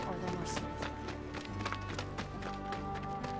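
Rhythmic clopping of horse hooves at a trot in Final Fantasy VII Remake, repeated sharp taps over a busy background with some voices.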